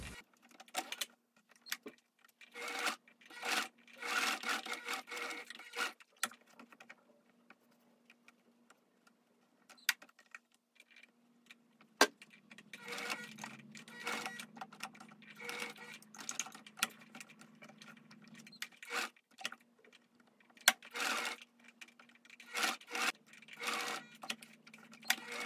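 A domestic sewing machine fitted with a zipper foot stitches a zipper around its rectangular edge onto a bucket tote bag, running in short irregular bursts with light clattering and a low motor hum, close and moderately quiet, with no talking.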